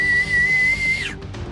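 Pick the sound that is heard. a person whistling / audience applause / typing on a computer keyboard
a person whistling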